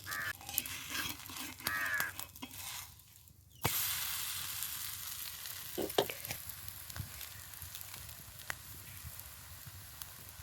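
Rice kundule fry in oil in a pan with a steady, close sizzle and crackle, broken by a short quieter gap and then louder hissing with scattered pops and scraping stirs.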